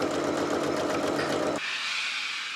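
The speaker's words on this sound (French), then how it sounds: "Je vais venir faire une première piqûre ici" Sewing machine stitching fabric, a dense close mechanical whir with rapid needle chatter that cuts off abruptly partway, leaving a thin lingering hiss; no voices.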